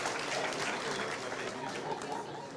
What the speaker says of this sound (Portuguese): Uma salva de palmas pro Richard.